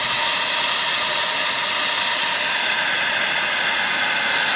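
Compressed air hisses steadily from a nozzle into a cylinder of a Fiat engine during a header air flow test, a loud, constant close-up rush with no pauses.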